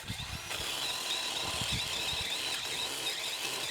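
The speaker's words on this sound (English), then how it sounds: "So the Dewalt is great for some smaller branches" A Dewalt battery pole chainsaw works slowly through a 3-inch branch, giving a steady, continuous whine with a high squealing edge and uneven low rumbling from the cut, fairly loud and close with no talk.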